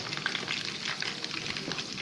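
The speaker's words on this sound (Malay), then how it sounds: "kita goreng sedikit bawang merah ya." Steady, gentle sizzling and crackling of shallots frying in hot oil left from frying chicken, continuous and close, with no voices.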